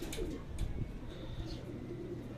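Racing pigeons at the loft after a 92 km race, cooing faintly and intermittently in low murmuring calls amid quiet background noise, with a few brief higher chirps.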